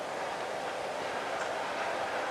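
A nearby train rolls along railway tracks, a continuous broad rumbling rush that holds steady and loud for the whole stretch, with no voices over it.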